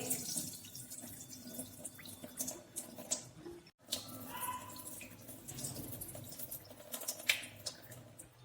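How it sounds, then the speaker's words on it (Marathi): Water is drained from a pot of maize grits soaked for six hours into a kitchen basin, a steady splashing trickle with brief gurgles and drips and a short pause partway through. "याच्यातलं पाणी मी बेसिन मध्ये ओतून देत आहे।"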